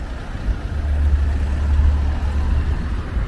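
Night traffic of motorbikes and cars on a street in Turkey, a steady low rumble of passing engines swelling and fading, fairly loud and close without talk.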